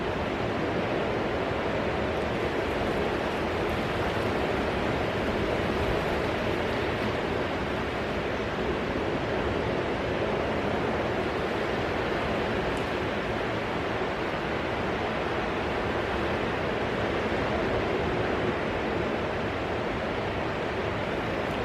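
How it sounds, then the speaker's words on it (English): Steady ocean surf washes in continuously beside the shore, a broad even roar of breaking waves with no pauses, moderately loud and alone without any voices. "watching the waves breaking in the background while listening to your soothing voice and the ocean sounds"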